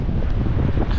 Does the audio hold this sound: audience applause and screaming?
no